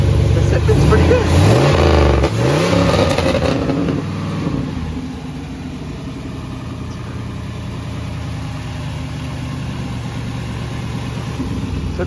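A V8 car engine with a 5.3 LS bottom end, LS1 heads and LS1 cam is running loud and close: rough revving over the first few seconds, then settling to a steady, throaty idle.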